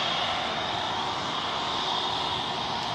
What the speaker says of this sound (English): NZ187 to the Gold Coast heading off now. Another A321neo.